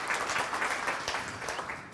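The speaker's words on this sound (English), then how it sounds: "please give a loud applause to Eric Newcomer" Conference audience applauding steadily for two seconds, a dense even patter of many hands at moderate loudness with no talk over it.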